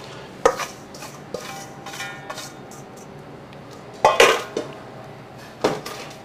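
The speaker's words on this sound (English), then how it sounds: "and then a good wire whisk to get a good even mixture" Wire whisk mixing a dry cure of salt, brown sugar and pink salt in a bowl: scattered clinks and scrapes against the bowl, a few sharper metallic knocks, close and fairly quiet.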